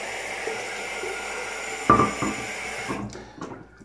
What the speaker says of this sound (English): Filled my bowl full of water.